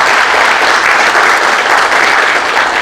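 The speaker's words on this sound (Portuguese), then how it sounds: "peço uma salva de palmas." An audience at a stage event breaks into loud, sustained applause, a dense wash of clapping that fills the whole moment without pause.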